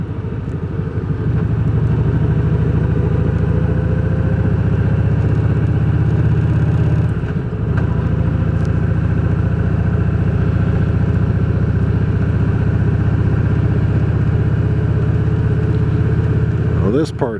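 A car engine drones loudly from inside the vehicle on a rural road, its pitch dipping briefly as it downshifts and then climbing again, holding a steady hum for the rest of the stretch.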